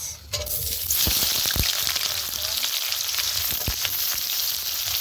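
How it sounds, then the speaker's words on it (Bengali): Onions frying in hot oil in a kadai, a loud, continuous close sizzle with sharp crackles and pops scattered throughout, no talking. "কড়াই তেল গরম হয়ে গেছে, এবার আমি পেঁয়াজ,"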